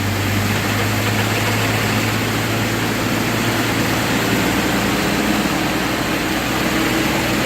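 A vehicle with a 47-48RH transmission runs steadily in second gear under a transmission test, giving a loud continuous engine drone with a low hum and broad roar throughout, no talk.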